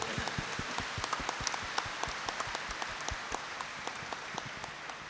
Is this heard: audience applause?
yes